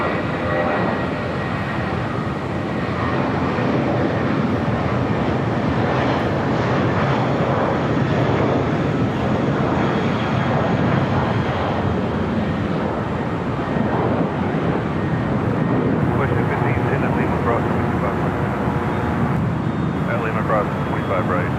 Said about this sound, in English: Delta 757-200 coming in from Guatemala City, flight 1903